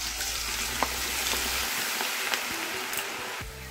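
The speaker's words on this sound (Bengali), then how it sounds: "তেলটা গরম হয়েছে, আমি এটা দিয়ে দেখেছি গরম হয়েছে কিনা।" Jhuri bhaja batter dropped in small portions into hot oil, giving a steady close hiss of frying with a few faint clinks, heard alone without talk.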